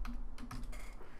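Fingers typing Android code on a computer keyboard, a quick irregular run of close, crisp key clicks with no talking.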